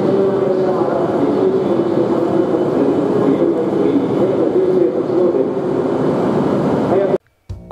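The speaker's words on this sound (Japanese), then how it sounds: "今到着した列車は盛岡行きの早瀬です" A Hayate Shinkansen train bound for Morioka pulls into Shin-Hakodate-Hokuto station at night, a loud, steady rushing roar that holds evenly for about seven seconds, then cuts off abruptly to near silence.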